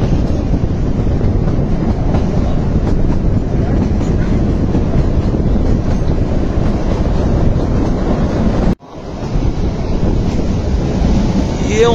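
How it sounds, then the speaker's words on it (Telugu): Shivalik Deluxe Express toy train on a hill railway to Shimla, a loud continuous rumbling roar of rolling wheels with wind buffeting the microphone, broken by a sudden brief drop before the noise resumes. "ట్రైన్ చూసారా, మనం వెళ్ళబోయే టాయ్ ట్రైన్ ఇదే శివాలిక్ డీలక్స్ ఎక్స్ప్రెస్."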